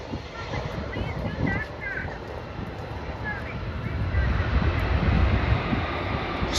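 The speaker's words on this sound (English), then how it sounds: "Spoilers are up, the thrust reversers are engaged." A C-5M military transport makes a short-stop landing at an air force base airshow, with spoilers up and thrust reversers engaged: a broad, steady roar of reversed engine thrust and rushing wind that swells toward the end, with faint voices underneath.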